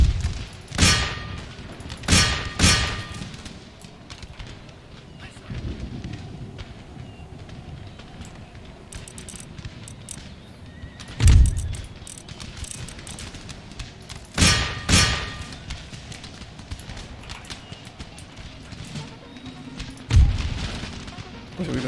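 Cannons fire in the strategy video game Empire Total War, with repeated heavy booms at irregular intervals, some near and sharp, others duller, over a low battlefield rumble.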